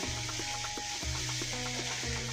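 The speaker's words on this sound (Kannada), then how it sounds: "ಈ ಥರ ಹೆಚ್ಚಿಕೊಂಡಿರುವ ಸಬ್ಬಸಿಗೆಯನ್ನು ಹಾಕಿ" Chopped dill leaves hit a hot pan of garlic for a vegetable palya, bringing steady close sizzling and frying with soft stirring scrapes and low clatter running throughout, no voices.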